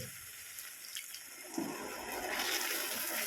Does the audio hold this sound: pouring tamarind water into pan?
yes